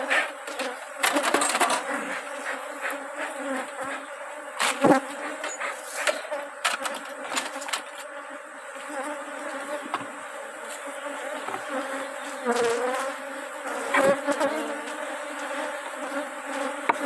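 Honeybee swarm buzzing at a hive box, a close, dense drone with individual bees zipping past the microphone and faint clicks and knocks of hive handling throughout.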